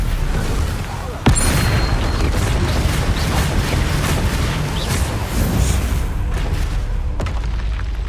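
Confringo blasting spell explosions in Hogwarts Legacy, a sharp loud burst followed by rumbling booms and crackling blasts over a sustained loud bed, with a voice speaking in the mix.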